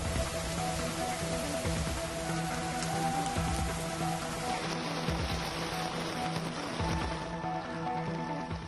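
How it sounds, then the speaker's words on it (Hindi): Steady rain falls over Delhi NCR in September, shifting between heavy downpour and light drizzle, with a continuous dense hiss of drops on surfaces that holds evenly throughout with no voices. "दिन भर कभी झमाझम तो कभी रिमझिम बरसात।"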